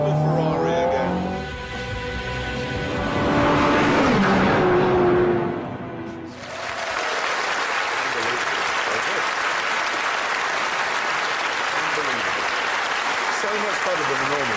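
A Ferrari 430 Scuderia driven hard, its engine rising in pitch before a short drop, then a loud, dense roar that carries on steadily, with talking over the first part.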